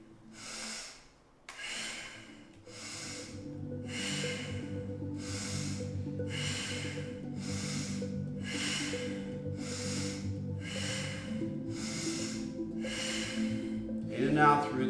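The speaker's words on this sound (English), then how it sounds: "In and out through the nose, keeping the chin tucked." Slow, steady breaths in and out through the nose during a calming stress-relief exercise. About a dozen soft, even airy cycles repeat over a sustained low musical drone.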